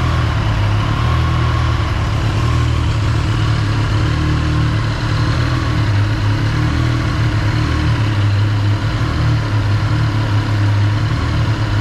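A motorcycle engine idles during a vibration test, a loud, continuous, even rumble with a steady low throb and no voices.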